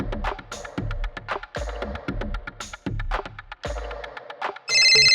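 A phone ringtone plays a repeating tonal pattern of rapid pulses, followed by a brief harsh electronic burst at the end.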